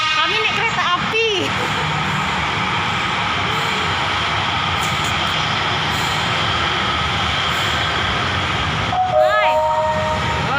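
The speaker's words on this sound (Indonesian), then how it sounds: "ini kereta api udah sampai" A passenger train rolls past with a steady roar of wheels and rumbling carriages, punctuated by brief tonal squeals or horn blasts near the start and end.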